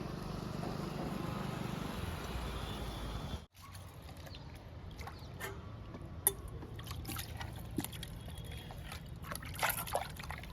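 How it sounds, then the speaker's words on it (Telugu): Water poured onto soil in potted fruit plants after an egg-yolk fertilizer, heard as a steady trickle and splash over outdoor hiss, with a short break and then scattered light drips and taps. "ఇప్పుడు మనం ఫర్టిలైజర్ ఇచ్చిన మొక్కలన్నిటికీ వాటర్ ఇచ్చేద్దాము."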